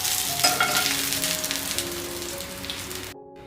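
Food fries in hot oil until golden brown for chicken maqluba, a dense crackling sizzle with scattered pops and stirring sounds that cuts off abruptly near the end.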